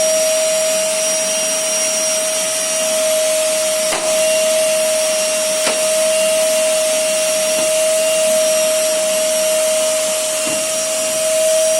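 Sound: vacuum cleaner running

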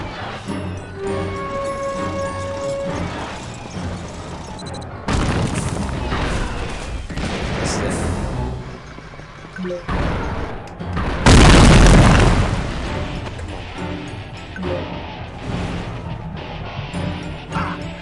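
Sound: confusion grenades exploding in the video game Psychonauts

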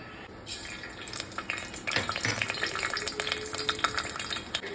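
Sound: mustard seeds sizzling in hot coconut oil

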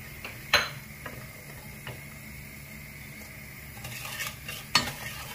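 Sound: stirring sauce and demerara sugar in pan on medium heat

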